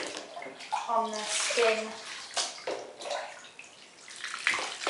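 Water pouring and splashing as a guinea pig is rinsed off during its bath, a steady wash of splashing with brief louder gushes, while a person talks over it.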